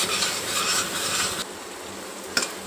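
Capsicum masala frying in hot oil gives a steady, close sizzle with stirring scrapes for over a second, then a quieter simmering hiss with one brief clatter near the end.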